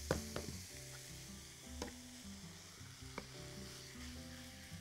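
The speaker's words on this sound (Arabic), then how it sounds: "نقلب فيها كل شوية بس عشان ادخل البصل جواها وعشان افكك اللحمة من بعضها" Minced meat and onions fry in a pan, giving a soft continuous sizzle with occasional scraping and clinking as they are stirred, quiet and close with no voices.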